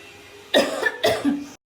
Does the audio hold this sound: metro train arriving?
no